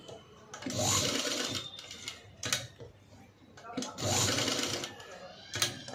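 Sewing machine stitching around a blouse neckline for a patchwork design, two close bursts of rapid whirring stitches separated by pauses with brief clicks, and a person speaking over it.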